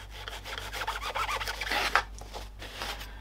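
Seat upholstery foam is trimmed with a blade, short rasping, rubbing strokes repeating close up over a steady low hum, with no talking.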